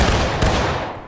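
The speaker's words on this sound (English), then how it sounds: "Independent fire, boys. Independent fire." A massed musket volley rings out in the American Civil War shooter War of Rights during a Little Round Top event: a loud, close crash of overlapping shots in one burst that dies away over about a second.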